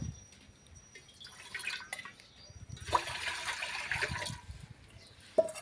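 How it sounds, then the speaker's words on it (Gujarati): Water poured into a pot on a stove, splashing and trickling in short uneven bursts, close and fairly quiet, with a couple of sharp knocks of the vessel. "માથે મૂકી દે તપેલું ને એમાં થોડું પાણી નાખવાનું"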